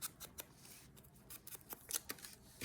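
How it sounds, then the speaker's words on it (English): Scissors snip through a 12 x 12 paper sheet in a wavy line, a quiet run of short, irregular crisp cuts close by with no voices. "Giving these a little bit of a kind of wavy cut here"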